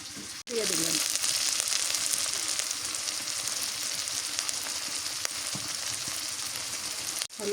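Onion and garlic paste hits hot oil with a sudden loud, steady hiss and sizzle that keeps going at close range, with no voices over it.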